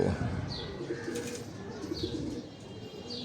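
Low, murmuring coos of black pigeons repeat steadily over a busy background, with a few brief higher chirps mixed in.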